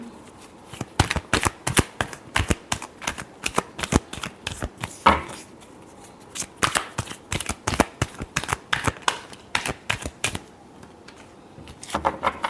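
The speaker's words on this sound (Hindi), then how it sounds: "Last shuffle." Tarot cards being shuffled by hand, a rapid run of crisp riffling bursts repeating in quick rhythm with short pauses between them, close and clear with no speech.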